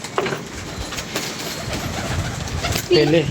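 A pigeon coos nearby, a brief soft call at the start and a clearer throaty coo at the end over faint background noise.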